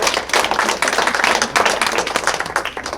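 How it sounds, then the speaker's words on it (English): An adult audience at a family engagement workshop on anti-bullying gives a volunteer a loud, dense round of clapping that continues throughout. "let's give Bo a big round of applause"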